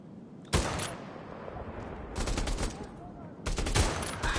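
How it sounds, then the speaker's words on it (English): Gunfire in the PSVR shooter Bravo Team: three loud bursts of shots, each sharp and close, separated by quieter gaps with faint background sound. "Shoot the guy across the way, who is kind of a pain."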